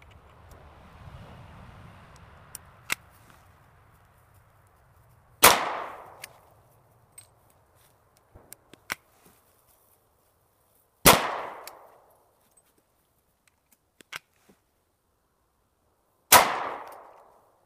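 Three loud, evenly spaced shots of .40 Smith & Wesson from a Chiappa M6 X-Caliber survival rifle, each a sharp crack with a short ringing decay, with faint clatter between.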